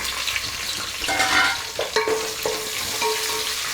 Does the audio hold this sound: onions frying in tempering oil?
yes